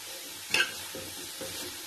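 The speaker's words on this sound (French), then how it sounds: "vous mettez votre chou et vous mélangez" Shredded cabbage stirred into a pan of Réunion-style vegetable achard, soft steady sizzling broken by a few scraping stir strokes and a sharp clink at the end, close and alone.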